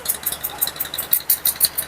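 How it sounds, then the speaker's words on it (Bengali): A passenger trawler's engine on the river at Keraniganj Telghat makes a rhythmic, pulsing chug. Regular bursts repeat about every quarter second, close and fairly loud, with no talking. "এই যে ট্রলারে করে কিছু যাত্রী আসছে"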